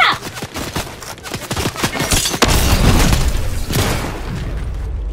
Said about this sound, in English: someone's shooting me